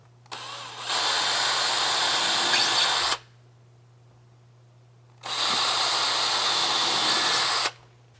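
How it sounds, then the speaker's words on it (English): Power drill boring holes to mount a magnet latch on a frame; two sustained whining bursts of about two and a half seconds each, separated by a pause, close and loud with no speech. "we're going to mark where we're going to drill our holes"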